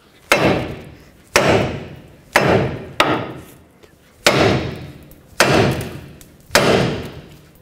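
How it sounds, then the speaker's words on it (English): Seven sharp, heavy hammer blows on the steel steering knuckle of a 1997-2003 Ford F-150, freeing the ball joint, evenly spaced about a second apart, each ringing briefly before the next strike, close up with no talking. "we're going to use a hammer right here on the knuckle"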